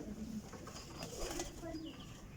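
Sialkoti flying pigeons, a high-flying breed, give soft low coos a few times over a steady background hiss, close by and fairly quiet.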